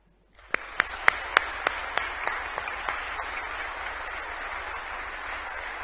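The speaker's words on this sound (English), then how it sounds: "I would like to give one final round of applause for all of our recipients." Sustained applause from an audience at a school awards ceremony and memorial chapel service, with several sharp individual claps at the start before it settles into steady, even clapping that continues to the end.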